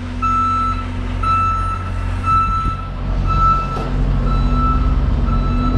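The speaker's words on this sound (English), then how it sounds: "Who's beeping over there?" Evenly spaced reversing beeps from a backing vehicle, moderately loud, over a steady low engine rumble and outdoor background noise.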